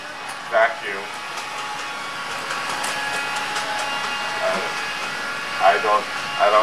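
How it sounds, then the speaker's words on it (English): A vacuum cleaner runs with a steady, moderately loud whine and drone throughout, while people talk over it in short bursts. "He's still vacuuming."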